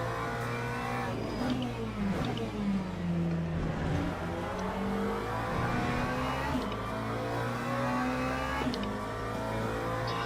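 Race cars in the Le Mans Ultimate game drive flat out at Le Mans, engines whining loud and continuous as pitch climbs and drops through gear changes, with faint talking underneath.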